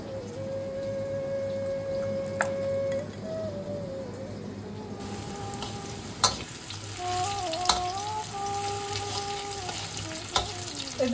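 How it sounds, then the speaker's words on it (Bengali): Onions fry in a pan in steady, close sizzling, broken by a few sharp clacks from stirring, with a faint tonal hum running beneath. "পেঁয়াজটাকে আমরা ভালো করে ভেজে নেব।"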